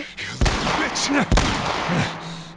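Two sharp, loud shots ring out in the survival horror game The Last of Us Part I, each a sudden crack with a short echoing tail, over low background noise.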